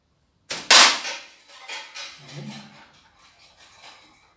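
Slingshot shot striking a tin can, a single sharp metallic crack followed by a short rattling, ringing decay outdoors, fairly close.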